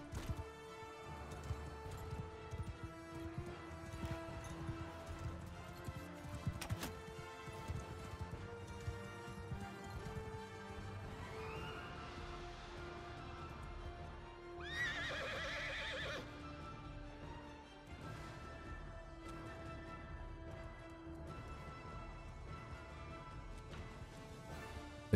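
Horses in the video game Bannerlord whinny and neigh over steady clip-clopping hooves, with game music and battle noise underneath and a louder crash around the middle.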